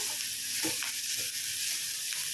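Tomato hits a pan of frying bitter gourd, setting off a steady, close hiss of sizzling oil with a few brief louder crackles and stirring bumps, no voices.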